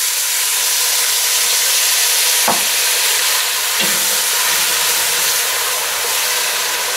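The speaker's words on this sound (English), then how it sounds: "We'll just throw a little bit of the beer in to help deglaze the pan a little bit." Beer splashed into a hot pan of onions to deglaze it, giving a loud continuous sizzle and hiss with a couple of faint utensil scrapes.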